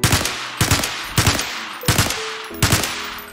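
Five heavy gunshots from a video game gun, each a loud, sharp blast followed by a short ringing tail, spaced evenly about two-thirds of a second apart with nothing else heard.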